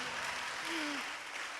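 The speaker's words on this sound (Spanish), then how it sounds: "Dale un aplauso al Señor." A church congregation applauds together, a broad and continuous wash of clapping that stays level throughout, with a faint voice briefly rising above it.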